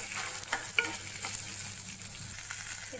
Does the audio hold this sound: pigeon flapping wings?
no